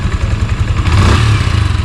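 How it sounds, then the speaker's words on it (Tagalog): A 2026 Yamaha Sniper 155 motorcycle engine starts up with a low rumble, settling into a steady, close idle with a slight rev in the middle. "Yan yung andaran niya guys, pakinggan nyo."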